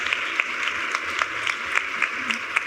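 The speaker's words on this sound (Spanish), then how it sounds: "Así que un aplauso para ustedes" Applause from a festival talk audience, a steady wash of clapping from a sizable crowd with a few sharper individual claps standing out, no voices over it.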